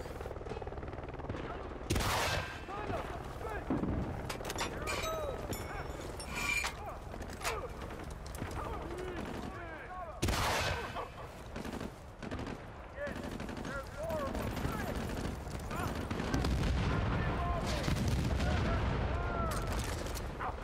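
Video game combat with bursts of gunfire, mechanical clatter and a helicopter-like drone beneath. Sharp shots recur several times over a busy, moderately loud background, and a voice talks at points.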